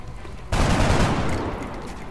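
Gunfire bursts from a tactical shooter game, XCOM: Enemy Unknown, kicking in suddenly after a quiet half second and rolling on as a dense, loud, sustained volley.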